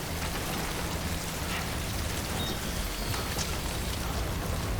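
Steady rain falls in the video game Death Stranding, a dense, even hiss that holds at a constant level throughout with no voices.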